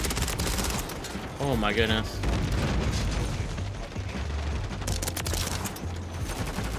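ISO 9mm submachine gun fire in Call of Duty MW3, dense rapid bursts and explosions crackling almost continuously, loud and close, while a man reacts excitedly over the shooting.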